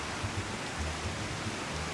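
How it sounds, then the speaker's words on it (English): Heavy rain pours down in the video game Final Fantasy XIV, a faint, continuous hiss of falling water with no talking. "Oh, now it's a downpour."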